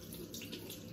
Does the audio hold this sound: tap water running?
yes